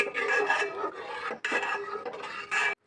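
A spoon stirs a pot of milk with fried cashews and raisins, making a few rhythmic, rasping scrapes against the pot that stop briefly between strokes.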